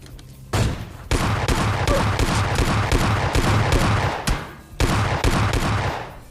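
Loud, rapid bursts of automatic gunfire in PUBG Mobile Lite, the shots rattling in rhythmic strings separated by brief pauses, close and dominant throughout.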